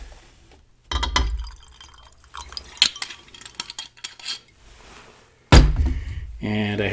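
Vodka is poured from a bottle into a glass while a pineapple juice cocktail is being mixed. Short clinks and knocks of glass and bottle frame a brief splashing pour, heard up close.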